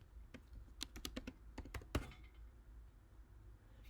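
Rapid typing on a computer keyboard, with a burst of crisp, uneven key clicks and taps close by, then a quieter stretch of faint room noise after a final louder keystroke.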